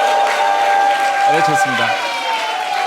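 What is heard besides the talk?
audience applauding and cheering for a candidate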